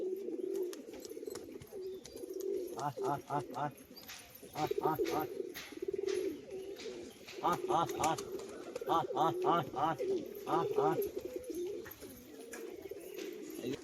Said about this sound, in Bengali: পায়রাটা দেখুন খুব সুন্দর একটা পায়রা কালশিরা নর পায়রা